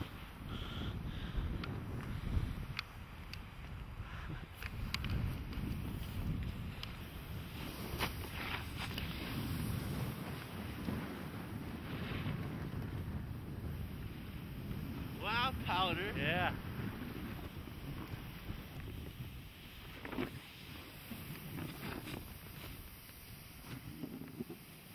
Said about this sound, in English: Low wind.